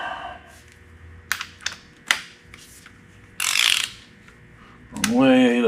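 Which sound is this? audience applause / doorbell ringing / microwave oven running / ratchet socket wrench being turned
ratchet socket wrench being turned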